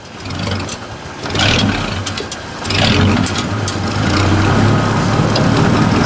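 A tractor engine runs steadily nearby, a loud throbbing mid-pitched drone that swells and rises as the throttle opens, with mechanical clatter over the top.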